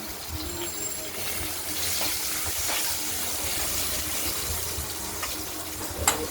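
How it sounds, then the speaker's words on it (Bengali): Potatoes fry in a pan of oil for a spicy pabda fish curry, giving a steady, moderately loud broadband sizzle with a few brief spatters and no talking. "আলুগুলো ভালো ভাজা করে নিই।"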